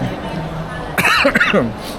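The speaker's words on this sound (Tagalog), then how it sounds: "Grabe, hanggang hindi pa nawawala yung ubo ko." A short burst of a few close coughs from one person after a quiet murmur of background chatter in an SM Legazpi mall.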